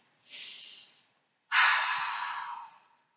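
Deep belly breathing during a yoga session: a soft, airy inhale followed after a pause by a longer, louder exhale that fades out, close to the listener and with no speech.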